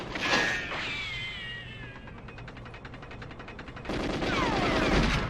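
Gunfire in the GoldenEye 007 video game, a few sharp game shots mixed with whistling synthetic game effects and a steady ambient background, growing louder toward the end.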